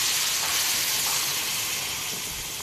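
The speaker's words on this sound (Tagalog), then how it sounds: "ngayon, ilagay natin ang gata" Coconut milk poured into a hot pan of fried fish and eggplant with ginger, garlic and onion gives off a loud, steady hiss and sizzle that slowly eases off.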